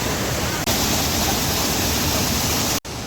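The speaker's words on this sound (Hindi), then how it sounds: "ये दूसरा वाटरफॉल है जो हमें मिला है" A waterfall pours straight into a river along the Kedarnath trek, making a steady, loud broadband rush that stays constant throughout with no talk over it.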